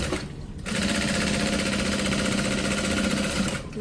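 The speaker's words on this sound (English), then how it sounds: "So now I'm just gonna really quick base stitch it in place." A sewing machine base stitches a soft fabric crossbody bag in one continuous, loud, close run of rapid stitching that starts after a brief pause and holds steady to the end.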